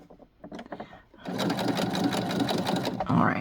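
After a few short hesitant taps, a sewing machine whirs into a steady, loud, close stitching run on a tiny seam, with a voice speaking briefly before the motor starts.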